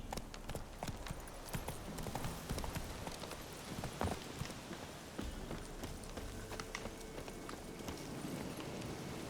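Horse hooves gallop in a steady, rapid clip-clop throughout, from a mount ridden in The Witcher 3 video game, with wind and ambient game sound underneath.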